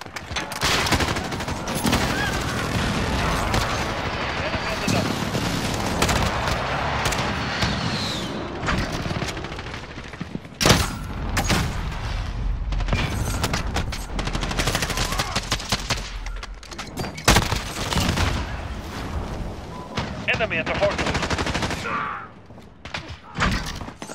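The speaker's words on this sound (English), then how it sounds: "Allied precision airstrike incoming." Dense, continuous gunfire and booming explosions from a precision airstrike in a Call of Duty match with an M4A1, loud and chaotic, with sharp heavy thuds punching through sustained rapid shooting throughout.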